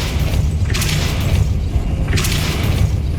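A Depulso spell cast in Hogwarts Legacy, loud booming blasts with a bright whooshing burst, two distinct spell impacts over a constant low rumble of game sound.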